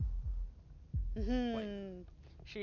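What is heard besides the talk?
heartbeat in the video game Slay the Princess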